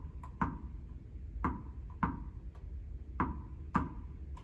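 Two balls bounce on the floor and are caught in a steady, even rhythm, a series of faint, crisp taps repeating at regular intervals in a quiet room.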